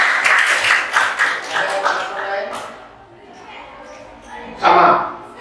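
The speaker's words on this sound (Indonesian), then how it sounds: "Oke, tepuk tangan dulu" Participants in a coaching session clap in a short, uneven burst that tapers off, followed by a quiet stretch and then a second brief flurry of clapping near the end, with talking in between.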